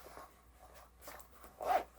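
A zipper is tugged in several short, quiet rasping pulls, ending with one slightly louder zip, close by.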